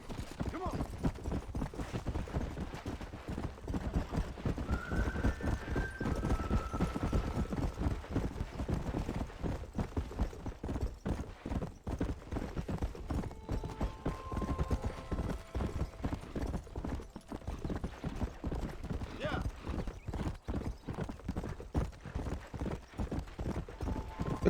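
A horse gallops in Red Dead Redemption, hooves clip-clopping in a fast steady rhythm throughout, with a brief whinny and faint game effects mixed in. There is no talk over the galloping.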